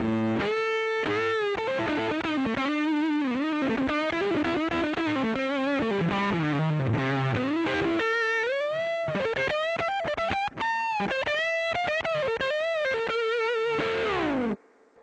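A distorted electric guitar on a Peavey WNDSR Studio, on the full humbucking neck pickup, plays a continuous, fluid solo line with bends and fast runs, loud and upfront, ending abruptly.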